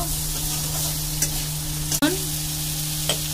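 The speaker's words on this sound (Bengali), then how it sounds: "এবার সেই কাটা ছোট ছোট আলুগুলো দিয়ে দিচ্ছি। এইগুলো একটু তেলে ভেজে নেব।" Small cut potatoes frying in oil give a low steady sizzle under a constant hum, broken by a few light stirring clicks and one sharp knock midway, with no one talking.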